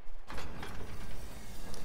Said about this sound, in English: Open up this door